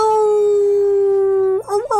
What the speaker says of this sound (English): A howling of a wolf from somewhere nearby